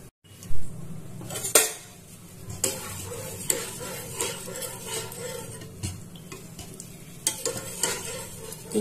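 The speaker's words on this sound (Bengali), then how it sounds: "এবার আমি এর মধ্যে সানফ্লাওয়ার অয়েল দেবো।" Sunflower oil heats in a hot wok ready for deep frying, giving a steady low sizzle punctuated by sharp clinks and scrapes of a utensil against the metal pan at irregular intervals.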